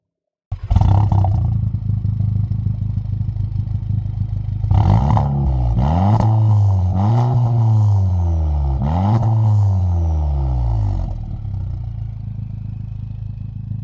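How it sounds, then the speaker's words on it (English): A Volkswagen Golf GTI MK7 with an aftermarket exhaust idles, then revs sharply several times in rising and falling sweeps, loud and close, before settling back to a rumbling idle. "This exhaust sounds really good. However, this is an aftermarket."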